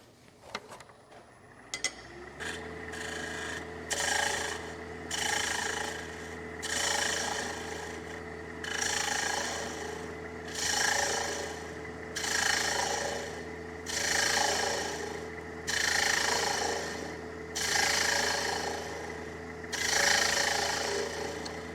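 Bowl gouge taking light, fine cuts on a three-sided wooden bowl spinning on a lathe, a steady motor hum beneath a rhythmic series of raspy cutting swells, each pass lasting about a second, close and moderately loud with no talking.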